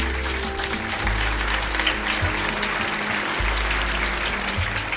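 An audience claps at an international women's awards ceremony, giving sustained, dense applause that stays steady and fairly loud with low thumps mixed in.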